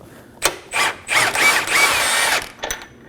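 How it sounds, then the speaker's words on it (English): A 19mm socket on a ratchet or power tool loosens the lower control arm bolt on a 2016-2020 Kia Sorento, making several close, loud mechanical ratcheting and whirring bursts with short pauses, no talk. "on the bottom, we're gonna use a 19mm socket to remove the bolt"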